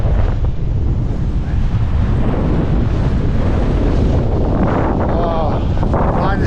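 Strong cold wind roars and buffets the microphone on a winter mountain in the Lake District, a loud, continuous rushing gust that fills the whole stretch without a break.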